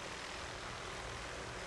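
A helicopter hovers during maintenance on an energized 765,000-volt power line, its engine and rotor a steady, even drone throughout the short stretch, with no talk.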